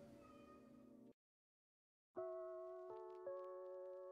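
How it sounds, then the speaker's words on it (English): A cat meows loudly, a drawn-out cry, then after a brief silence lets out another long, tonal meow that wavers in pitch. "She is meowing up a storm."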